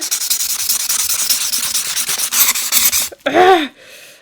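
Close, harsh rubbing and scraping of a pumice stone against a surface in rapid strokes, ending abruptly, followed by a brief vocal sound.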